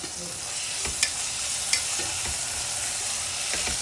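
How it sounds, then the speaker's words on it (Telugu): Chopped tomato pieces go into onions frying in a pan, with a constant bright sizzle, a few soft stirring knocks and spoon taps scattered throughout, and no voices. "ఇప్పుడు మనం తరిగి పెట్టుకున్న టమాటా ముక్కలు వేసేయాలి"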